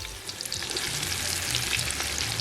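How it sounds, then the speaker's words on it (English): Anchar masala and curry fry in hot oil on a coal pot stove, a bright, crackling sizzle with popping spatters, loud and close, no speech. "And then we're gonna just let it fry up in the oil."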